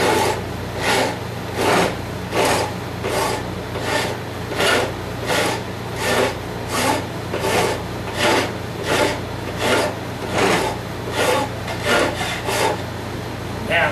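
A hand file rasps rough material off a blade clamped in a vise, with steady, evenly spaced strokes of about two per second, close and loud.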